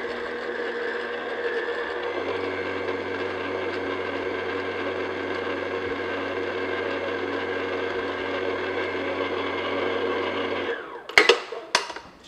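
Electric mixer beating flour into red velvet cupcake batter, whirring steadily and close for about ten seconds before switching off, followed by a few light clinks.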